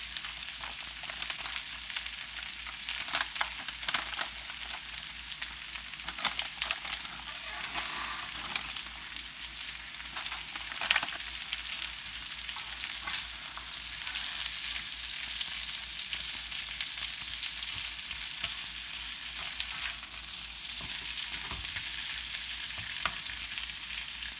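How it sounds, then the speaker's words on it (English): Sun-dried tomatoes and vegetables sauté in a pan with a steady, close crackling sizzle that runs the whole time, broken by occasional stirring scrapes and bursts of spattering. "I'm going to add some sun-dried tomatoes."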